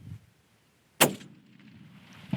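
A single loud rifle shot fired at an eland on safari cracks sharply out of near silence, then decays into a long rolling echo, with a faint thump at the very end.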